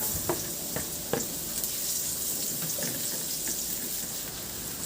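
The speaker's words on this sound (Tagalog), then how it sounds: "Igisa ko na rin yung bawang." Garlic sautés in a little oil in a pan, making a continuous sizzle with several light stirring clicks and scrapes spread through the clip, and no talking.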